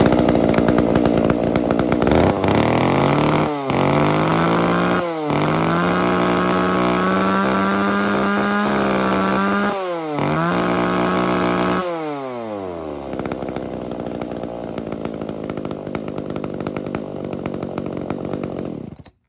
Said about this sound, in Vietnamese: tiếng máy nổ thì cực kỳ thoáng